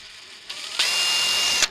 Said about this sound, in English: all I'm going to do is just drill straight in the middle there.